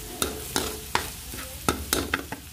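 Chicken pieces fry and brown in a pan for a chicken pochero, making a soft continuous sizzle broken by several sharp scraping stirs of a utensil against the pan, close and fairly quiet.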